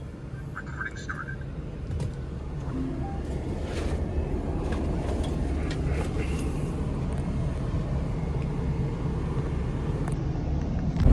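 A Tata Nano car driving along a road, with a continuous low engine and road rumble throughout and a few faint higher sounds passing over it.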